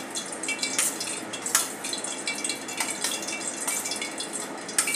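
Cornflour being stirred into a mixture for French fries: a spoon scrapes and clinks against a bowl in steady, close, soft strokes with faint wet squelching, no voice.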